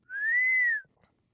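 An R2-D2 astromech droid whistle played from an audio app: a single clear, rising-then-falling electronic whistle lasting under a second, loud and alone, followed by quiet.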